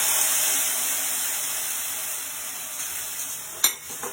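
Tomato puree hitting hot, smoking oil, a steady bright sizzle and hiss that fades gradually, with a sharp clink of a utensil near the end.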